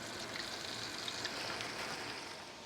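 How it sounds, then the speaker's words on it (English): Steady sizzling of blowfish tails frying in hot oil, a constant close crackle with small pops, no voices. "Look at them fry, look at them fry."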